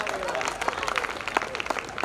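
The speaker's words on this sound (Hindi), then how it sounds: "तालियां आखिर तक बजाइए।" Audience at a Hindi comedy poetry gathering claps continuously, a close, lively patter of many hands with voices mixed in.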